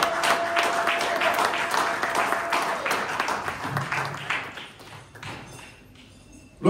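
A church congregation applauds loudly and steadily, dense clapping that thins and fades toward the end with a few voices mixed in.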